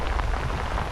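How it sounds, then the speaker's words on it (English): Heavy rain falls steadily with gusting wind as a hurricane approaches, a dense constant roar with low rumbling. "the wind came with the rain."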